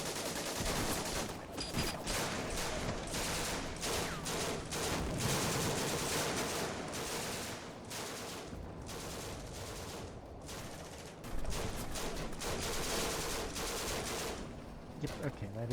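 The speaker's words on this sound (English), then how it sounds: "So they have more than one anti-tank rifle." Anti-tank rifle fire in the WWII strategy game Combat Mission: Afrika Korps, set at Gallabat, sounds as repeated heavy gunshots mixed into ongoing battle fusillades and machine-gun bursts, loud and continuous across the scene.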